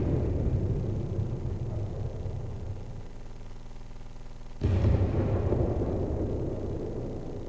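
Low rumbling background in the video game Dust 514, then a sudden heavy boom of a null cannon that jumps in loudness and fades back into a deep continuous rumble; no talking.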